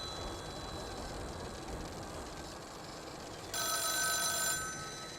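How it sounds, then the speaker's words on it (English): Telephone bell ringing inside The Town of Light game, a bright multi-tone ring that cuts in suddenly near the end over a steady ambient hum, loud and close for about a second before fading. "See if we can turn off this phone real quick."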